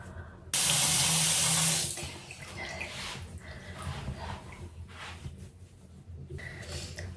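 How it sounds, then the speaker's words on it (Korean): Tap water runs into a sink during a bubble-cleanser face wash for double cleansing: a loud gush starts abruptly, then settles into a softer, steady flow with splashing from hands moving through it. "버블 클렌징으로 한 번 더이 이중 세안을 해주거든요"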